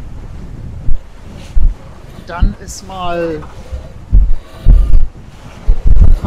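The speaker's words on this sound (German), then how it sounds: "Der Wind drehte ständig von Nordwest auf Südwest hin und her" Wind buffets the microphone aboard a sailboat on the North Sea between Sylt and Spiekeroog, loud gusty rumbles coming in bursts, with someone speaking German over it.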